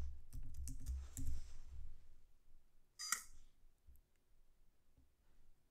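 A computer keyboard being typed on to enter a password, a quick run of close, light clicks followed by a sharper click, then quiet room tone.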